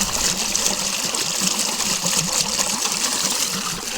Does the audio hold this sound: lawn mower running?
no